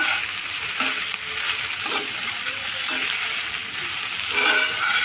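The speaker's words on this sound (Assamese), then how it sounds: "এতিয়া 5 মিনিট এনেকৈ লৰাই থাকোঁ।" Flattened rice (poha) fries in a pan while a spoon stirs it, giving a steady hiss of sizzling with soft scraping strokes repeating about once a second, close by.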